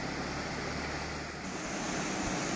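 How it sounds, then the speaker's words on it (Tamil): Canal water from the Lower Bhavani canal spills off a bridge like a mini waterfall, a constant broad rushing wash heard close and alone. "அப்படியே ஒரு மினி ஃபால்ஸ் மாதிரி இருக்குதுங்க இந்த பாலத்துல வர தண்ணி"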